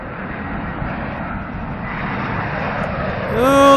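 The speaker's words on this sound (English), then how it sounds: "Thought you might like to see a big plane up close" A large airplane comes in to land at O'Hare airport in Chicago, its engine roar growing louder and closer with a rising whine near the end.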